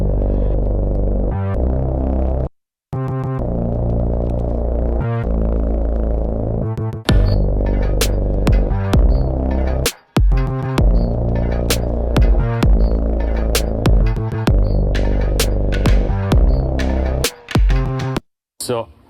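A synthesized bass line built from a pitched chain sample set into a percussive loop for a Cyberpunk 2077 track, with throbbing, buzzy repeating pulses, sharp metallic clicks and brief silent gaps, loud and alone.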